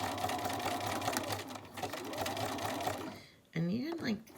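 A sewing machine runs a zigzag stitch over fabric scraps with a steady, close mechanical whir that stops near the end, after which a voice is heard speaking.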